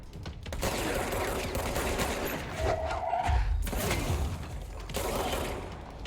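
Gunfire aimed at the player in the video game Control, a sustained burst of shots and impacts with thuds and shattering debris over a dense background.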